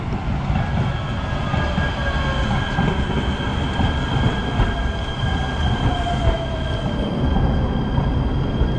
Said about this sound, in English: you'll see a lot of trains going by